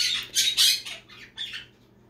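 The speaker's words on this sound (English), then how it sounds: "Told you you'd hear my bird." A pet bird indoors lets out several loud, harsh squawks in quick succession, close to the listener, fading into quiet after about two seconds with no speech.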